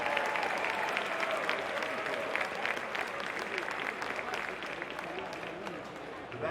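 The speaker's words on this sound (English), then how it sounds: "Let's give him one more round of applause." Audience applause at a varsity basketball presentation for boys and girls teams, a steady, dense crowd clapping that holds evenly for several seconds, with voices faintly mixed in.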